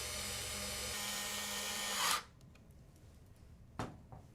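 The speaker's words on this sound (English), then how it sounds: "Then use the screws to hold the system together. Tighten the screws." Screws being tightened while assembling an AutoRAE 2 controller-based system, a steady close mechanical whir for about two seconds that stops sharply, then a couple of faint clicks.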